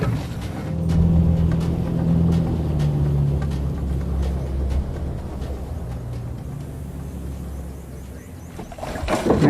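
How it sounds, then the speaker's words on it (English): A boat on the Amazon river moves into position, its engine a steady low droning hum with tonal overtones that shifts slightly in pitch and eases off toward the end, accompanied by broadband water and wind noise. "the men move the boat into position"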